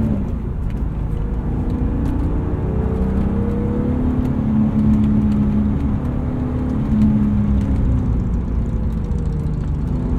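The inline-six S52 engine of a 1999 BMW E36 M3 drones steadily while driving, a low rumbling hum heard from inside the car with no talk.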